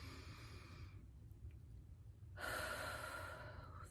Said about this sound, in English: Do a little bit of breath work where you breathe in